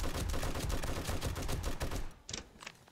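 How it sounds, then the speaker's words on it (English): Gunfire in 7 Days to Die as a zombie is shot: a rapid string of loud, punchy shots for about two seconds, then a few sparse single reports trailing off. "How many shots does it take to kill this guy?"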